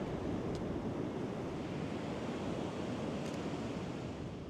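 Ocean waves wash in around rocks on a dull day: a constant, dense roar of surf and spray, fairly close and loud, with wind buffeting the microphone throughout and no talking.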